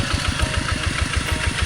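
A tractor engine runs close by, ready to plough a rice field, with a steady, rapid chugging pulse and a loud, even mechanical drone.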